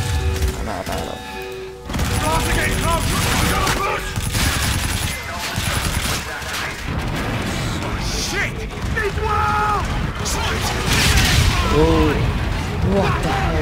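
Dense gunfire from the shooter game Call of Duty: Infinite Warfare crackles in heavy, overlapping bursts alongside mechanical clanks and impacts, loud and nearly continuous, with someone talking over the battle.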